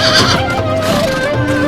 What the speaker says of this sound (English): A horse befitting only a king.